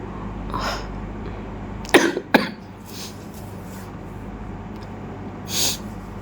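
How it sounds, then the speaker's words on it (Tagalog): Two sharp, close coughs in quick succession, followed by a softer breathy sound and quiet room noise; no talking. "Sorry, kasi may ubo talaga ako."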